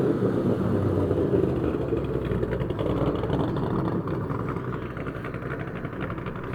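A Ford Mustang engine at a Cars and Coffee car meet in Morrisville gives a steady, fairly loud rumble that holds through the whole stretch outdoors, easing slightly toward the end, with no clear talk over it.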